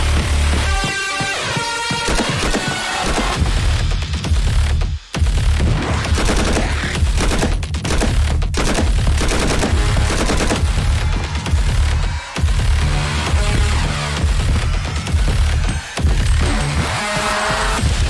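Video game gunfire: a long, dense, relentless stream of automatic shots and overlapping bursts, loud and close, barely pausing for eighteen seconds, with no talking.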